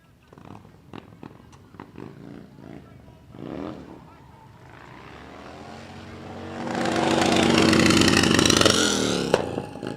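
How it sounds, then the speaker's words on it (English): A home-built drift bike at a DrifterCross event in Sturgis, engine screaming loud and steady against the rev limiter during a skid over the last few seconds, after quieter engine and crowd noise. "All over that rev limiter right there, skidding his way through"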